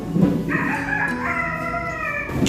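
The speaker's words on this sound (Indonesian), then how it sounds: "ayam pun berkokok" A rooster crows once, close and loud, a long drawn-out harmonic call lasting about two seconds, with a little background noise around it.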